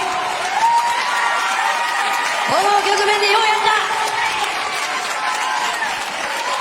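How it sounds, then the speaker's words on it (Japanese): A large crowd applauds and cheers for boxer John Riel Casimero after his fight, dense sustained clapping with whoops and shouts throughout, while an announcer speaks over the noise. "みんな大声援で拍手してあげてください"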